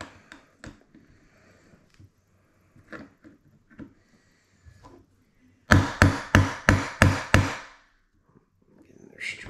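Hammering while servicing a Sig rifle: scattered light taps, then a run of six sharp, loud metallic blows in quick succession, close up, with someone talking at times.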